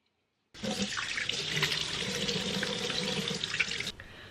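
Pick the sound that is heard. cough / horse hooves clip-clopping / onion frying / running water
running water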